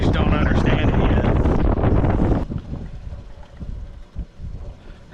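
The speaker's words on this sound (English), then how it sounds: "Sorry it's so windy, brother." Strong wind buffets the microphone on an Oklahoma lake during crappie fishing, loud and roaring for the first two and a half seconds, then dropping to softer gusts.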